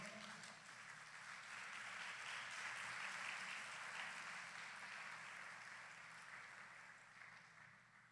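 Church congregation applauding during a Sunday school service, a soft, distant, sustained wash of many hands clapping that swells in the middle and tapers off.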